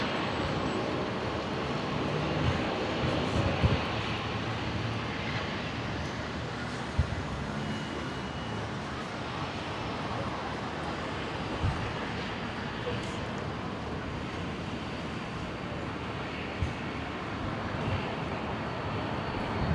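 Qantas flight 520 from Sydney landing on runway 01 right at Brisbane airport, heard as a distant, steady jet rumble that holds for a long stretch, with faint voices and a few small clicks over it.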